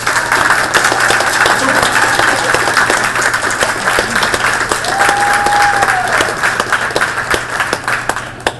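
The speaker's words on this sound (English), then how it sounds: "So we'll give her a round of applause when she steps in." An audience at a school luncheon applauds as a woman arrives, a dense, steady wave of clapping filling the room for most of the stretch before tapering off at the end, with a brief voice or whistle-like tone rising partway through.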